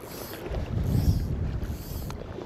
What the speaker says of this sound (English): the wind's blowing along this bank which is ideal